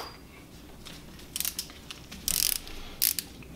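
Ratchet wrench clicking in short bursts while tightening bolts on a BMW N54 engine block during a crankshaft and main bearing rebuild, close and crisp over quiet background, several separate ratcheting runs.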